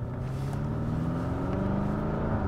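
A 2019 BMW M5 F90 Competition set to rear-wheel drive accelerates hard, its engine a loud, steady low roar with a gradually rising pitch, heard close up from inside the car with no talking.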